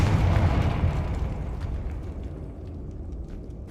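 Confringo explosion spell in Hogwarts Legacy: a loud, deep, rumbling blast at the start that decays slowly into a long fading roar with scattered crackles, heard alone.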